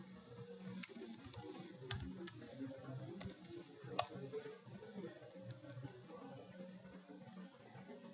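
Someone types a password on a computer keyboard at a steady pace, producing a run of soft close clicks with a few sharper taps against faint room noise.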